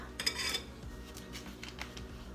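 A fork beating eggs in a bowl for French toast, quick light clinks and scrapes against the bowl, close and fairly quiet, with no talking.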